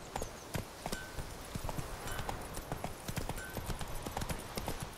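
In The Witcher 3: Wild Hunt video game, a horse's hooves clip-clop on the ground in a quick, steady, repeating rhythm, clear and close throughout.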